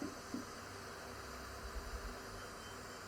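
Steady broadband FM radio static hiss from wireless light-up SN-36 headphones scanning for stations, faint and continuous with a few brief low murmurs, no clear voices.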